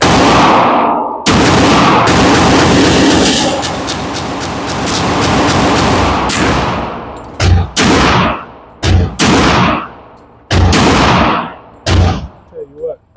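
1911 single-stack pistols from Ruger, Girsan, Tisas and Taurus firing at an outdoor range: loud, close gunshots with long booming reverberation, first in overlapping bursts, then about six separate sharp cracks with echoing tails.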